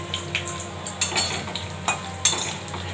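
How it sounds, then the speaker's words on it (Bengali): Papad frying in hot oil gives a steady sizzle with intermittent crackles and scraping stirs of a utensil against the pan, close and moderately loud. "পাঁপড় ভাজা হচ্ছে"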